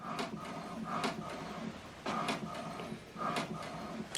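An HP Deskjet 2700 printer printing an alignment page: a steady mechanical whir with repeated carriage sweeps and clicks recurring about once a second, close and fairly loud.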